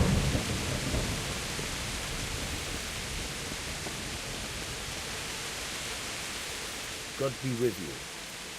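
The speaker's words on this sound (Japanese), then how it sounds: "めっちゃ雨降ってる。" Heavy rain hisses in a dense, constant wash in the Kingdom Come Deliverance video game, with a low thunder rumble at the start and someone speaking briefly near the end.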